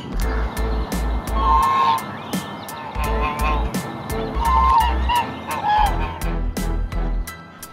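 Swan geese honk repeatedly near a lake nest, giving loud, overlapping calls in uneven bursts with short pauses between them.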